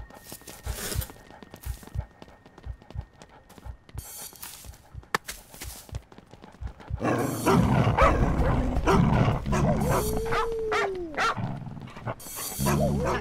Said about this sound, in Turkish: Köpek geliyor.